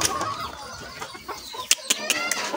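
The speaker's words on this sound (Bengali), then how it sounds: "এই তো আমাদের পলিশ কেপ প্রজাতির মুরগি" Polish cap chickens cluck in a series of short, sharp calls, several sounding close and loud against steady background noise with no talking.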